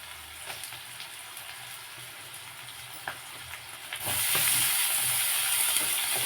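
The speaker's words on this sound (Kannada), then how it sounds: "ಇವಾಗ ಸ್ವಲ್ಪ ಹೊತ್ತು ಇದನ್ನು ಸಹ ಟೊಮೆಟೊ ಮೆತ್ತಗಾಗೋವರೆಗೂ ಫ್ರೈ ಆಡಿಸಿ." Tomatoes frying in a pan for a North Karnataka-style red chilli chutney, a soft steady sizzle with faint clicks that swells to a louder, brighter hiss partway through as they hit the hot oil.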